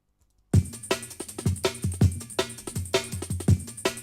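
A drum break, repitched in Ableton Live, bursts in after half a second of silence: punchy kicks, snares and busy hi-hats looping in a tight funky groove, loud and upfront.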